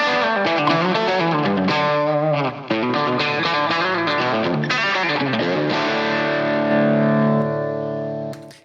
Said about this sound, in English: we have a delay and a reverb and some stereo imaging plugins here on the guitar track